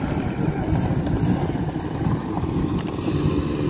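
Rental mountain dirt bikes idling and revving together in a crowded spot in Saudi Arabia during winter, a steady rough engine drone with small rev swells throughout.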